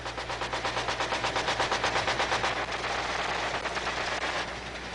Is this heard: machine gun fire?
yes